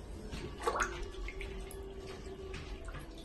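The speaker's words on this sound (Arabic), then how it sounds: "غادي نديرهم في الماء اللي درت رقدت مع شويه ديال الاملاح باش يرطابو" Feet soaking in a basin of water with salts during a pedicure routine, a soft close slosh and trickle of moving water over a low steady background, with no talking.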